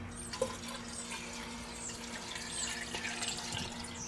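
Water running into the cooling system of a Ford F150 with a 4BT Cummins engine, a steady close pour and trickle over a low constant hum.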